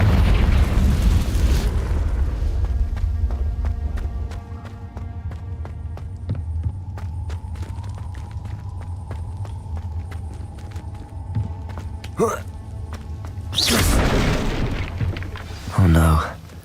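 A Confringo spell from the Hogwarts Legacy game bursts with a deep, loud rumble at the start, then fades to a low ambient bed with footsteps. Two more sharp blasts come later.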